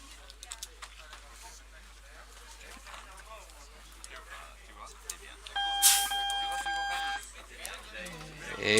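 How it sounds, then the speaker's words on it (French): A buzzer sounds at a paintball match, a bright tonal blare that starts partway through and holds for about two seconds over crowd noise and an announcer talking. "Allez-y, les gars, allez buzzer."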